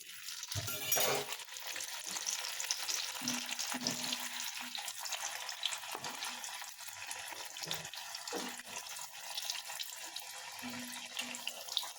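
Dalpuri, a lentil-stuffed puri, deep-frying in hot oil, giving a continuous hissing sizzle with occasional bubbling surges and low clinks from the pan, heard close with no talk.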